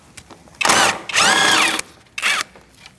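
Three close bursts from a power tool turning a 10mm socket on a bumper bracket bolt of a 2008-2014 Mercedes-Benz C300, each one a loud whirring drill-like whine lasting under a second, separated by short pauses.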